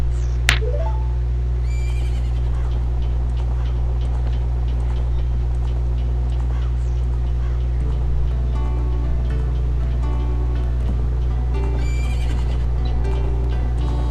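Donkey pulling a cart in the video game Majora's Mask, an unbroken loud mechanical drone with repeated whinny-like calls and light clip-clop beats over a steady looping bed.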